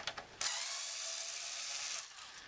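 A screwdriver ratchets as screws are loosened on a mini cocktail arcade cabinet's control panel, with a few short clicks and then a sustained whirring ratchet burst up close.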